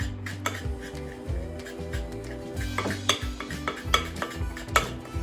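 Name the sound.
stirring cookie dough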